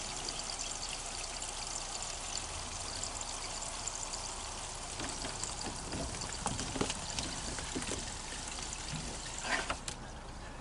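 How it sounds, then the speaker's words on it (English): Water pours steadily out of an RV black tank drain through a sewer hose, a continuous broadband gush and trickle with a few brief louder splashes near the end, no talking. "Open the drain. Water is pouring out,"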